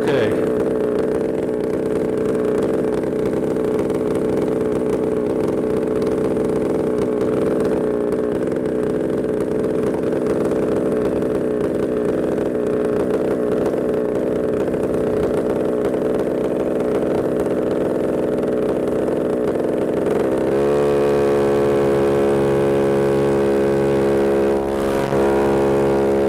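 A paramotor engine drones loudly and steadily during an in-flight emergency, then its pitch shifts abruptly near the end into a rougher, uneven tone. The engine runs close and continuous throughout.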